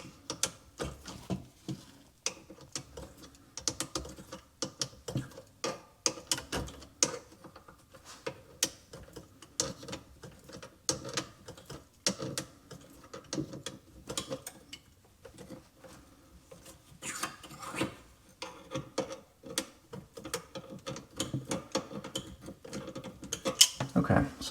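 Pliers snugging the mounting nut under a bathroom sink while installing a new faucet: faint, irregular clicks, scrapes and ticks of metal on metal, close by, with brief pauses and no talk.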